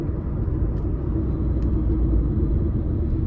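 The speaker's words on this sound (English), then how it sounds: "starting the test drive in this 500X, it is quite peppy with this turbocharger here" A 2021 Fiat 500X Trekking with a turbocharged engine drives on the road: a steady low rumble of engine and road noise fills the cabin, continuous and fairly loud, with no talk.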